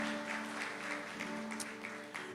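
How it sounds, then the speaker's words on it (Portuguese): A church congregation applauds at the close of a service, a steady wash of clapping under sustained instrumental tones, moderately quiet and unbroken. "Vamos aplaudir mais uma vez a vida deles, queridos."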